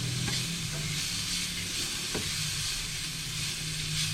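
Lean bacon frying and rendering in a pan, a continuous close hiss and crackle with a couple of faint scraping stirs.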